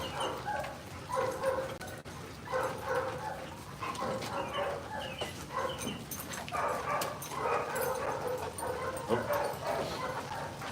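A dominant dog yips, whimpers and gives a few short barks in irregular bursts, fairly close, with a person speaking intermittently nearby.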